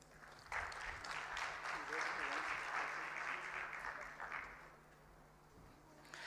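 Audience at a budget review dinner session applauding for a speaker, clapping building quickly into a full round, holding steady, then thinning out toward the end with some voices mixed in underneath.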